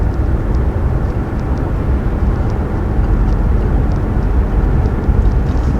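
Cadillac CT6-V Blackwing V8 with 10-speed automatic in paddle-shifted manual mode, cruising with a loud, steady, broadband engine and road roar that stays constant throughout.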